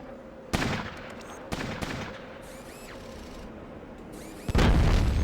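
Gunfire in the video game Fallout Tactics: Brotherhood of Steel, a few loud sharp shots at intervals with a heavier blast near the end, over a low ambient background.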